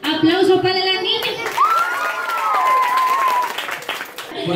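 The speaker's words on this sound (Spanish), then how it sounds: "Eso, aplauso para la niña." Applause and cheering from a crowd of children, with shouts over the clapping; a voice speaks at the start before the noise swells.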